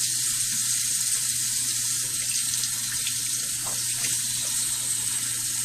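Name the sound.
rinsing soap out of a shaving brush with water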